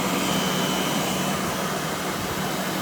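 A Rainbow D4C SE canister vacuum's motor runs steadily at low speed, giving a constant, fairly loud whirring drone with a faint high whine and no pauses.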